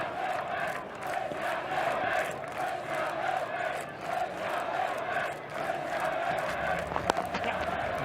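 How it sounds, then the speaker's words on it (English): Cricket crowd on day five of the 2006-07 Ashes Test at Adelaide, a dense continuous roar of cheering and chanting that surges and swells in waves across the whole stretch, loud and sustained with a brief sharp peak near the end. "Listen to the crowd. They've really taken the opportunity to turn the screws today"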